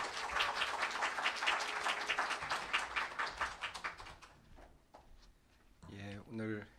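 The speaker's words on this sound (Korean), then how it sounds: "앞으로 박수로 이사장님 모시겠습니다." Audience applause rising as a chairman is welcomed to the stage at a student field-study report session, a dense wash of clapping that thins out after a few seconds before a voice begins speaking.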